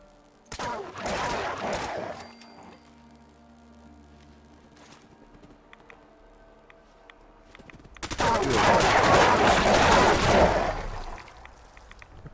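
Automatic gunfire in the video game Fallout 4: Far Harbor, a loud rapid burst at the start, a quieter stretch with faint tones, then a heavier sustained volley of shots near the end.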